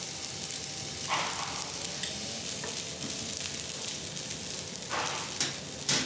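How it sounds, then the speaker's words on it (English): Chopped onion, ginger, rice and chopped scallops sizzle steadily as they are sautéed in a frying pan, with occasional stirring scrapes and brief bursts of louder crackle, heard close up. "Chopped onion, ginger, rice, and the chopped scallops are sautéed, and scallop sauce is added to the frying pan."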